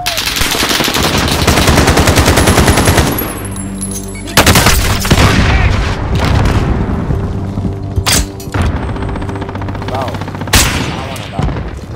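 Sustained automatic gunfire from Call of Duty: Modern Warfare, loud and dense bursts with booming impacts, continuing through the clip with game voices mixed in.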